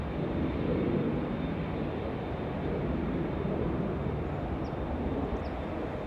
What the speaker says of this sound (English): I think the Dreamliner is starting to get a move on.